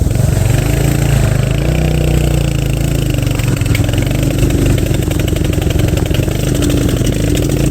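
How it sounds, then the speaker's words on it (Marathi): A motorcycle engine runs continuously with a rough, chugging tractor-like beat, loud and close throughout, during a ride along flooded roads between Vasai and Virar. "गाडीचा आवाज बदलला गाईज. बघायच ट्रॅक्टर सारखा आवाज यायला लागलाय बाईकमधनं"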